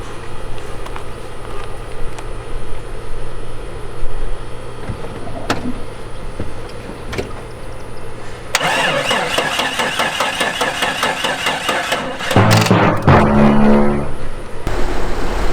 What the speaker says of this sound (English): This one's made by Matco, and it usually starts every vehicle without a problem.